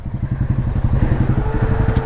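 Royal Enfield Bullet motorcycle ridden off-road along a muddy trail, its single-cylinder engine thumping in a loud, fast, steady rhythm close by, with rattling and clatter mixed in.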